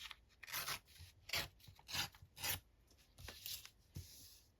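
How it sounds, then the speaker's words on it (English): Paper is torn off an altered book page in a quiet run of short, rough ripping bursts, close by and faint, with no talking. "I'm going to just rip a bit off there."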